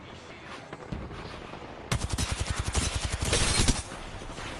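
Rapid video-game gunfire erupts abruptly after a quiet stretch, a dense burst of repeated shots in fast rhythm, loud and close, sustained for about two seconds before cutting back to low background.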